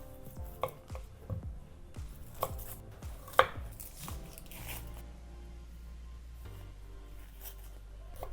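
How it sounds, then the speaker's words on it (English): Knife mincing an onion on a cutting board, a run of sharp close chops in uneven rhythm that thin out into a low background hum, with no talking. "To start the sauce, mince an onion."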